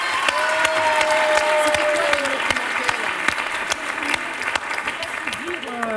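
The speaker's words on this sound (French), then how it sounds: "applaudissements!" Studio audience applause on a French television game show. Dense, lively clapping runs throughout with scattered sharp claps, faint tonal music underneath and a little crowd murmur.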